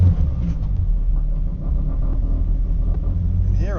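Car with a new gearbox and clutch runs up on a workshop hoist, giving a loud, steady low rumble with slight pulsing engine and driveline drone throughout, no talking.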